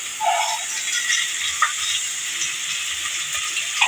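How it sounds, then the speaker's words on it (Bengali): Onions frying in mustard oil in a pot give a steady, bright sizzle that continues throughout with a few small pops and stirring rattles, close up and with no voices. "পাতিলে পেঁয়াজ দিয়েছি, এখন আমি তেল দিব।"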